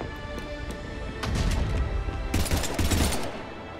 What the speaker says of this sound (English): And all those shots missed because it turns out Shepard can't aim for shit?